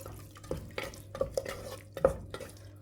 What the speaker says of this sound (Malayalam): മിക്സി കഴുകിയിട്ട് ഒരല്പം വെള്ളം കൂടി ഇതിലേക്ക് ഒഴിച്ചു കൊടുക്കുക